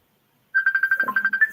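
A phone rings after a short silence with a fast warbling electronic tone pulsing in quick repeated bursts, loud and close, with no talk over it.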